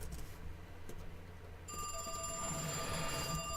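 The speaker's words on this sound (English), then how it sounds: "And the damn telephone is ringing." A telephone bell rings out, a sustained metallic ringing that starts partway through over a background of steady room noise, fairly loud and near, with no talking.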